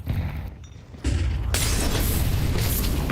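A grenade goes off in a Counter-Strike match, with a loud broadband burst about one second in and a dense roar that stays sustained and loud for the rest of the clip.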